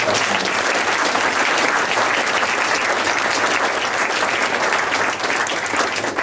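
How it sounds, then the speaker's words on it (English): Wedding guests applaud the best man during the reception speeches, a loud, dense round of clapping that fills the whole stretch without a break. "just give him a round of applause, because he's the best"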